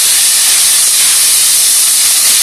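A rice mixture for Mexican arroz sizzles loudly in a hot pan, a dense, steady, close hiss that runs unbroken throughout.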